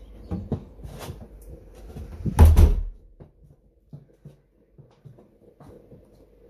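A front door swings open on entry into a house, a short, fairly loud burst of thuds and latch rattle set among quieter footsteps and handling knocks, with no talking.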